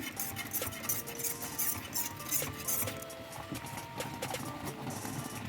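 A spoon works continuously through a thickening semolina dessert in a pot, producing steady scraping with rapid metallic clinks and taps against the pot, close and unbroken, with no talking.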